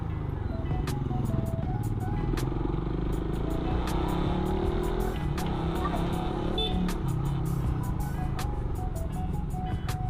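A Suzuki Raider 150 Fi motorcycle rides along with its engine droning steadily, mixed with wind rush and road clatter from a mounted action camera.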